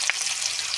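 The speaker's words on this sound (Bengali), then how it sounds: "ফোড়নে দেব 2টো তেজপাতা, গোটা গরম মশলা, পেঁয়াজ কুচি" Two bay leaves, whole garam masala and chopped onion go into hot oil for tempering, a dense, close hiss of frying with one quick crackle near the start, heard alone without talk.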